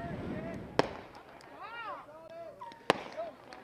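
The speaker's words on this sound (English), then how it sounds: "As we have some fireworks going off behind us." Fireworks burst behind a high school baseball field during an evening tournament game, two sharp bangs with whistling, crackling trails between them, heard over a commentator talking.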